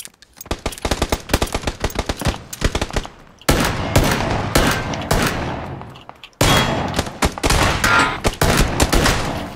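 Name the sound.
gunfire in video game PUBG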